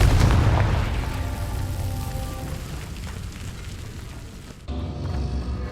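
A Confringo spell explodes in the video game Hogwarts Legacy, a loud booming blast that rumbles and slowly fades over several seconds before a second burst of noise near the end.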